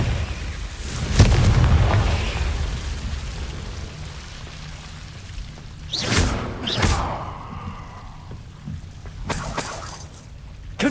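Confringo fire spells from Hogwarts Legacy burst as heavy booming blasts with crackling whooshes. One hits early, a close pair lands mid-way and another comes near the end, with low ambient rumble between them.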